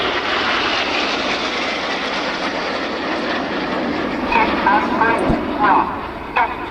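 RAF Red Arrows jets fly in close formation at an airshow, a steady broad roar of jet engines passing at moderate distance, with a commentator talking over it.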